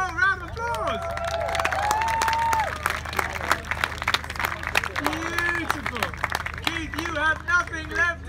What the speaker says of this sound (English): Whoa, round of applause!